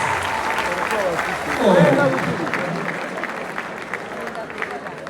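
Applause from an audience at an award ceremony, a steady wash of clapping mixed with crowd babble and voices, swelling briefly before easing back.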